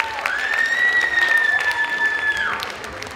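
Audience applause fills a hall during a quiz round of a women's workplace contest, steady clapping for about three seconds with a high, sustained whistling tone running over it and fading near the end.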